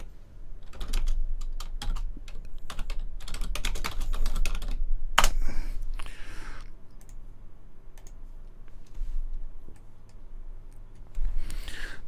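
Rapid clicking on a computer keyboard, heard close in quick bursts with short pauses, followed by a sparser run of keystrokes and a final flurry, with no voices.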